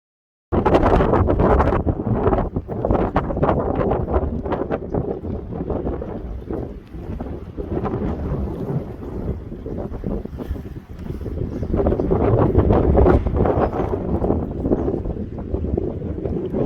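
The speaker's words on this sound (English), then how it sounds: "It's windy today!" Strong gusting wind buffets the microphone in loud, uneven rumbling bursts throughout at the start of a canoe trip in Big Bend National Park, with only a brief quiet moment at the very start.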